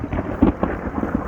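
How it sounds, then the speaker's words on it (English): Thunder rumbles in a thunderstorm, low rolling booms with a couple of stronger swells over steady rain, loud and without voices. "I love the sound of the storm"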